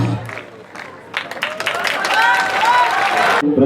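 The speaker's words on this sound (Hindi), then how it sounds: "तो एक बार फिर जोरदार तालियों से स्वागत कीजिए अरशद और उसके ग्रुप का।" Audience at a cultural programme for an ASI batch at RTC Arakkonam bursts into applause, scattered claps swelling into loud, dense, sustained clapping before it cuts off abruptly.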